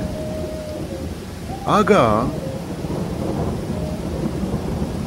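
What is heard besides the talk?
thunder and heavy rain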